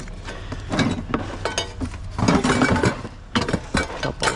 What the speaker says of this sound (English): Open up the drawers. What do we got?